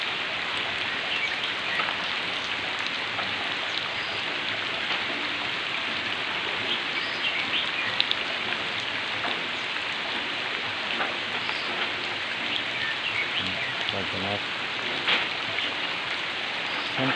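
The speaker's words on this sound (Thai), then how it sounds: "ดูสิฝนตกอย่างมากเลย" Heavy rain pouring steadily for the whole stretch, a dense loud hiss of drops on surfaces with occasional nearer splashes, no talking.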